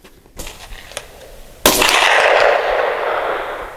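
A .22 rifle fires a single CCI Stinger round outdoors, one loud sharp crack followed by a lingering echo, with a few quieter clicks and handling sounds before it.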